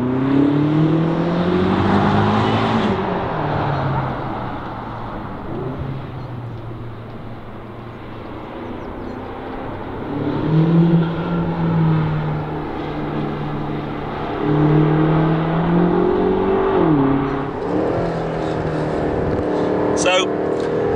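A BMW M8 Competition drives hard along open roads, its engine rising and falling through repeated accelerations and gear changes, loud and close throughout, with someone talking over the engine noise.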